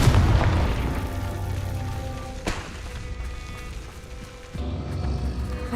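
Confringo fire spell explosion in a Hogwarts video game: a deep rumbling boom that fades out, a sharp crack midway, and a renewed low rumble near the end.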